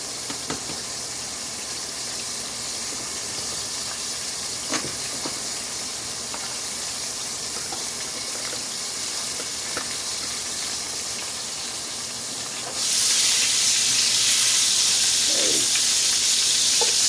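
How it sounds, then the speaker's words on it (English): A hot pan is deglazed after searing crosscut beef shank: quiet ticks and faint hiss give way to a sudden loud, steady sizzle and steam rush as liquid hits the metal. "I'm going to deglaze the pan with this."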